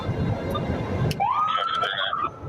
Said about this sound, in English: Wow, and a siren.